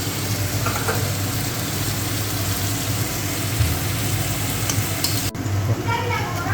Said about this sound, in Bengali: আর একটু ভাজা করব।